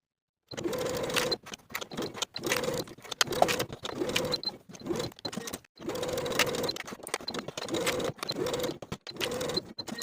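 A sewing machine bastes lined tab fabric pieces for a zippered crossbody belt bag in steady, close, rattling runs. Each run is broken by short stops.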